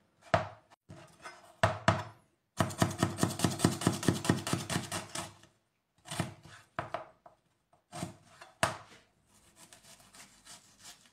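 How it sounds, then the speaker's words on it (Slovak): A knife finely chops onion on a cutting board in quick, rhythmic bursts of close, crisp strokes, with short pauses between runs. "A máš na drobno nakrájanú cibuľku"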